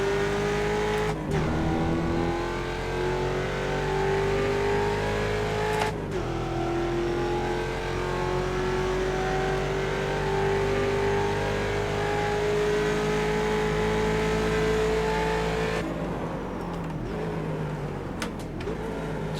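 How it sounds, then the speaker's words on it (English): A Mustang race car in iRacing at Mid-Ohio holds a loud, steady engine drone, with clear pitch drops as it downshifts several times and the revs climb back between shifts. "Just trying to be smooth with the downshifts here."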